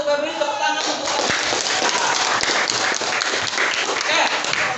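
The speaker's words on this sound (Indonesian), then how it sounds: "Tepuk tangan untuk Febri." A group claps enthusiastically, dense applause heard close, with a voice talking over the start and cheering mixed in.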